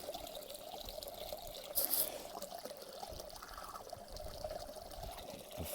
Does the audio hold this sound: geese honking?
no